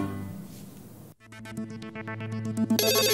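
Telephone ringtone playing loudly in a repeating melodic electronic pattern after a brief quieter stretch, continuing to the end without speech.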